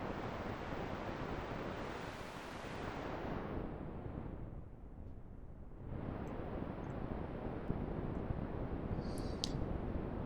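Synthesized noise imitating strong wind, a dense broadband roar that swells and dips over about ten seconds, steady and loud throughout with no voices.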